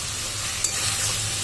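Spiced masala for Bengali chicken kosha frying steadily in a pan, a continuous close sizzle with stirring scrapes and one brief sharper clack midway.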